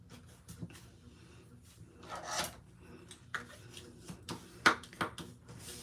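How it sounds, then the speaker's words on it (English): A folded paper card base is burnished by hand, with soft, close rubbing and scraping strokes broken up by small taps and handling sounds. "Give it a good burnish."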